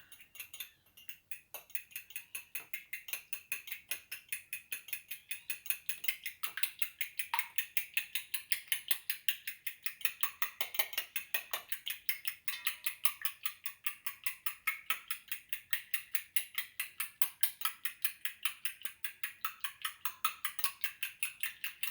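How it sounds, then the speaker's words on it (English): Eggs whisked in a bowl while baking a Jamaican Easter spice bun, a fast steady rhythmic ticking and clinking of the whisk against the bowl that runs continuously and fairly quietly, with no talk. "So I'm gonna break them and then I'm gonna whip them."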